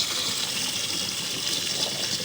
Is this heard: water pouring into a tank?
yes